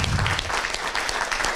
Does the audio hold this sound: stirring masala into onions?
no